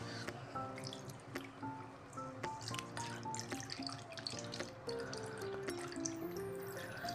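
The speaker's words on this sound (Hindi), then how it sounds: "और इसमें डालेंगे पानी।" Water poured into a steel pot holding raw chicken and vinegar, a soft trickling and dripping with ringing pitched splashes, quiet and close, no speech over it.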